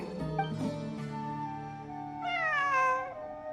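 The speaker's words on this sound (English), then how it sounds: "I'm not hearing things. It really is a cat." A cat in the Genshin Impact video game lets out two clear meows, a longer first call followed by a higher rising one, heard alone against quiet in-game ambience.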